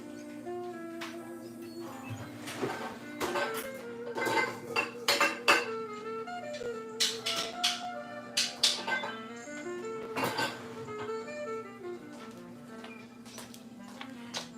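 Bowls, pans and dishes clink and clatter in a home kitchen, with a steady run of knocks and scrapes under a faint low hum and no speech.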